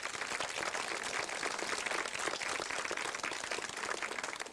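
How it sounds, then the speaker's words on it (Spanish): Steady, fairly quiet applause from an audience at a school graduation ceremony, honoring a child's prizes in obstacle and relay races; even, continuous clapping throughout with no voices. "Démosle un fuerte aplauso"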